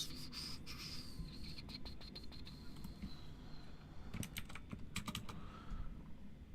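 Rapid, irregular keystrokes on a computer keyboard clatter close by in bursts, with brief pauses between runs, over a low steady room hum.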